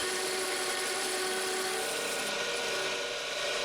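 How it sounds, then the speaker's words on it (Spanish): A straight chisel cuts a spinning maple wood cylinder down in diameter, making a steady, loud, rough shaving hiss with no pauses. "Voy a usar un escoplo recto para disminuir el diámetro hasta aproximadamente 23"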